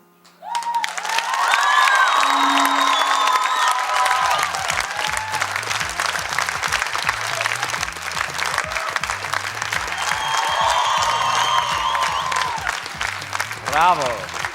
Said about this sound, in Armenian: ծափարությունները արդեն գնահատական են